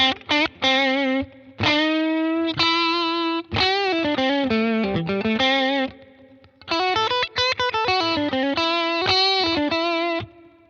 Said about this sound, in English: much more tidy, much more reserved reverb sound